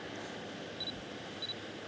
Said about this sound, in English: I have the beep confirmation from the lens